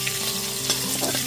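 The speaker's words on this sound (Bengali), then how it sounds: "গ্যাসের ফ্লেমটা লোতে রেখে ফোড়নটা এখানে হালকা করে ভেজে নিচ্ছি।" Asafoetida and slit green chillies fry in oil over a low gas flame as a spice tempering, giving a brief, steady, close crackling sizzle.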